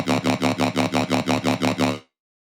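A vowel-like wobble bass synth patch built in Serum with EQ and reverb, pulsing in about ten even, rhythmic "wow" swells over two seconds before cutting to silence; loud and alone.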